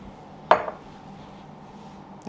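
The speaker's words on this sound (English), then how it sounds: "I'm just going to scrape" Scraper dragged across a chocolate sphere mold, a single sharp scrape and clink near the start, then quiet room tone before another short knock at the end.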